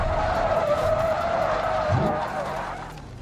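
A car driven over a series of speed breakers in a crash test, losing all its right-side tires, gives a loud continuous skidding, scraping squeal with engine noise, steady throughout and easing slightly near the end.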